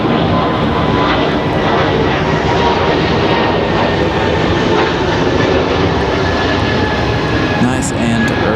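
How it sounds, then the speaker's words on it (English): An Airbus A220 jet departs on a windy day at Raleigh-Durham airport, a loud, close, sustained engine roar with a thin high whine, filling the whole stretch, with wind buffeting and a voice talking over it. "we get this beautiful A220 departure"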